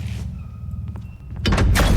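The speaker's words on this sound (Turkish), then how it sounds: "kapıyı kapat kapıyı kapattım" In the Eaters horror video game, a door slides and bangs shut with a loud, heavy rumbling thud after a quieter stretch of creaks and small knocks.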